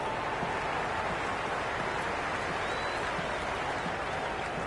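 A dense roar of a large cricket crowd in a video game, continuous and distant, with no breaks in the noise.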